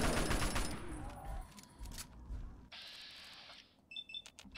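An assault rifle firing in Fallout 3, rapid bursts of shots at the start, then scattered game effects and beeps, moderately loud with no speech over it.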